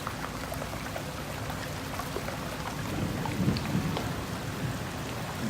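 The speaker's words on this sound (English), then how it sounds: "some of the thunder that still rumbles overhead" Thunder rumbling overhead after torrential rain in Bangor, a low rolling swell rising midway over a steady hiss of rain.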